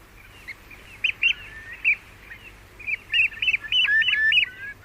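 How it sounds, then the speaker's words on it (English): Curlew, oystercatcher and herring gull rise from a high-tide roost, calling in bursts of clear piping and whistling notes that grow busier toward the end, at moderate distance over a quiet background. "Curlew, oyster catcher, herring gull, rising from a roost at high tide."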